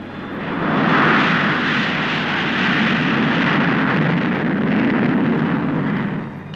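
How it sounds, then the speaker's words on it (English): Rolls-Royce powered BAC One-Eleven short-haul jet airliner of British United Airways in flight, heard as a loud, steady broadband engine roar that swells slightly and holds throughout. "We joined one of these Rolls-Royce powered jets at Gatwick during its route proving flights."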